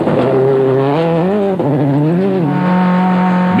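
A rally car at the 2006 Cyprus Rally slides through a left-hand corner, its engine note loud and close, dipping and rising as revs change, with a strained tire squeal running underneath.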